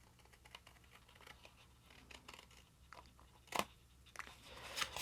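Paper flaps 1 cm wide being snipped off a handmade ATC card box, giving short crisp cuts and crunches scattered over five seconds, with a sharper snip near the middle and more toward the end, close and fairly quiet.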